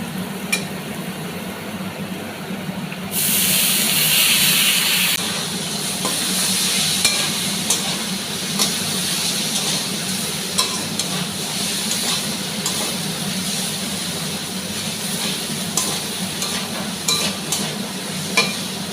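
Chow mein being stirred and fried in a home kitchen pan, with a continuous loud sizzle and repeated spatula scrapes and clicks. A sharp hissing burst near the start eases back into steady frying.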